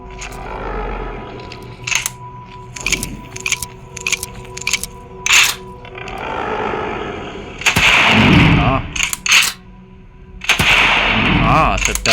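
Gunfire in the shooting video game Same Room Same Day, with sharp scattered single shots, then louder dense bursts and booming blasts in the second half, loud and close.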